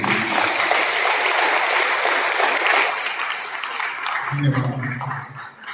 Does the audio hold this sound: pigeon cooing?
no